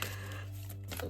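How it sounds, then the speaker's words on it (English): A large mixed deck of tarot and oracle cards being riffled and shuffled, producing a soft, continuous flutter of card edges with a brief louder burst near the end, no talking. "mix these, and then we'll do one big shuffle."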